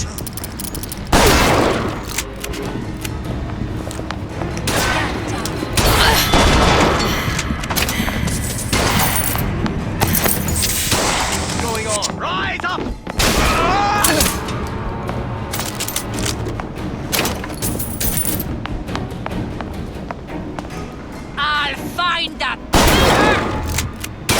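Gunfire in Bioshock Infinite: dense, loud volleys and sharp individual shots crackle in irregular bursts for a long stretch, with booming impacts and occasional shouting voices amid the fight.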